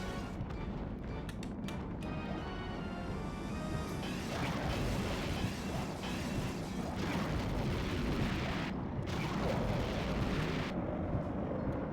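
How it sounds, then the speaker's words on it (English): Grenade launcher blasts in a video game, rumbling booms and crashing debris filling the space continuously with dense, loud roaring noise and no talk. "Okay, I have a grenade launcher"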